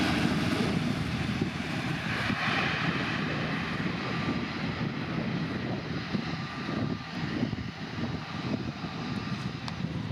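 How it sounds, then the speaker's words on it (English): A TAP Air Portugal Airbus A330 on landing descent roars steadily with broad, continuous engine noise, loud and sustained throughout with no talking. "Prepare to be mesmerized by the graceful descent of the TAP Air Portugal Airbus A330."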